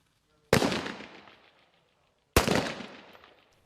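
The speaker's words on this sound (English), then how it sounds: "at the 25-metre shooting range, they're using live rounds for the first time" Two sharp rifle shots of live rounds at a 25-metre outdoor shooting range, each a loud crack with a decaying echo tail, spaced about two seconds apart, with no talk.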